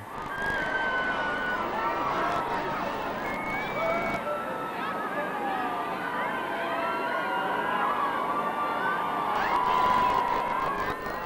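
A large crowd cheers outside Clarence House on the day of Prince William's wedding, a continuous distant roar of voices and whistles with a swell near the end, heard under a narrator's voice.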